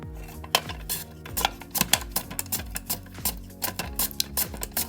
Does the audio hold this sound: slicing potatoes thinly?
yes